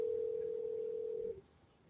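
A steady electronic phone tone sounds in a classroom, one continuous pitch held alone for about a second and a quarter before cutting off abruptly, leaving a quiet room hum.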